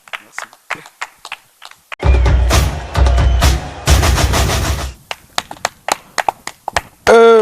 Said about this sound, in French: Je vous demande de l'applaudir encore une fois, s'il vous plaît.